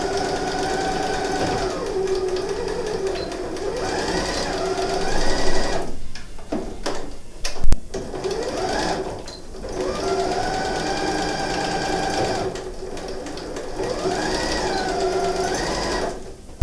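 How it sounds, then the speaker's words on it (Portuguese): A sewing machine fitted with a straight-stitch presser foot runs in loud close bursts of rapid stitching, with a brief pause and a few clicks midway before stitching resumes. "Volto com a minha sapatilha de costura reta. Margem de costura. Retrocesso tanto no começo quanto no final."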